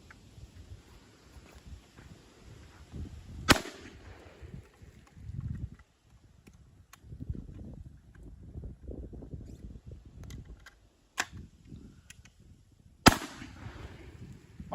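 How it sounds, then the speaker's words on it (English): A Hatfield SGL 20 gauge single-shot folding shotgun fires two sharp outdoor blasts at an ammo box on a berm, about nine seconds apart, with quiet handling and reloading clatter and light wind noise in between. "I'm just going to shoot at that ammo box, that yellow ammo box that's on the berm, and then I'm going to reload as quickly as I can and fire again"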